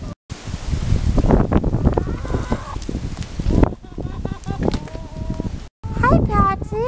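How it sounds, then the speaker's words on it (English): Strong wind gusts buffet the microphone outdoors, a loud rumbling roar that drops out briefly, with a person talking close over it throughout. "It is unbelievably windy out here."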